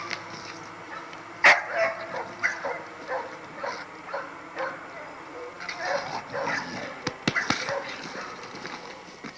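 A tightly inbred Zebo pit bull barks in short bursts and whimpers now and then in an outdoor yard, close and moderately loud, while someone talks over much of it.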